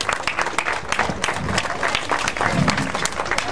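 Applause for performers at a community tribute event in Santa Ana, a steady crowd clapping throughout, dense and fairly close with no talk over it.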